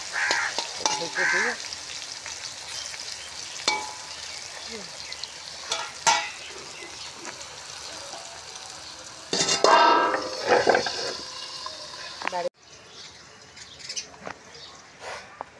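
A vegetable bhaji fries in a pan with a steady sizzle, broken by clinks and stirring of utensils against the pot. Birds chirp in the background and a voice speaks briefly.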